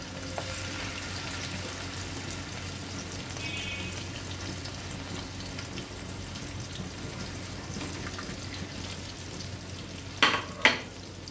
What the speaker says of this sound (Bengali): ফ্রাই প্যানে দিয়ে দিচ্ছি একটু একটু করে।